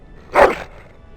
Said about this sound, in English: That is a wonderful dog.